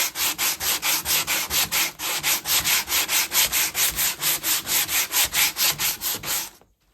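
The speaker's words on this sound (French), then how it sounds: "je prends une cale. Je commence avec du 80. Et là, je viens frotter." A motorcycle fairing is hand sanded with 80-grit paper on a block, making close, loud rasping strokes in a quick, regular back-and-forth rhythm of about two dozen passes before stopping abruptly.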